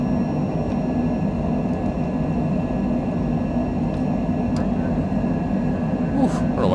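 Airliner jet engines roar steadily during a takeoff climb out of John Wayne Airport in Orange County, California, heard from inside as a constant broadband rumble with faint clicks and a brief rustle near the end.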